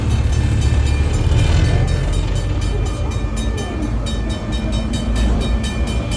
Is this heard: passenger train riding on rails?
yes